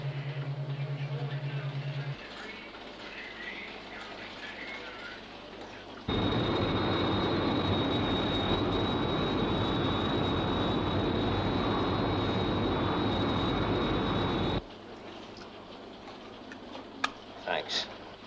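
Aircraft from the TV series UFO taking off, a steady loud roar with a high whine that holds for several seconds before cutting off, with brief voice chatter before and after.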